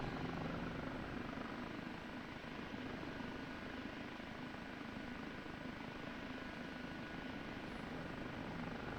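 Constant droning rotor and engine noise of an OH-58D Kiowa Warrior helicopter in flight in the DCS video game, steady and unchanging throughout with no voices.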